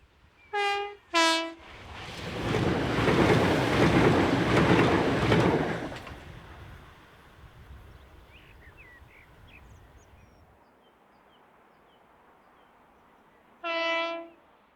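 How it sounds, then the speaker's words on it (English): A Class 375 electric train rounds a curve on a Kent line, rumbling loudly past for several seconds, bracketed by two sharp horn blasts before and a third after, then a fading hum and faint birdsong. "375714 rounds the curve with the 1748 from Ramsgate to London Charing Cross via Dover and Folkestone."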